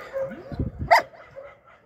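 A single short dog bark rings out close by, preceded by a few low murmured sounds, with a voice speaking around it.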